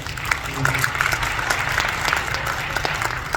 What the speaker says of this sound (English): So everybody give Mr. Jackson a round of applause